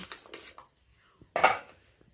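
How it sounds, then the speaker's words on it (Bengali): Boiled jackfruit seeds clatter onto a metal plate in a few short, close clinks, a quick cluster at the start and one louder scrape-and-clatter a moment later, set against quiet. "এই দানাগুলো সিদ্ধ দানাগুলো আমি এখন একটা থালাতে নিয়ে নিচ্ছি"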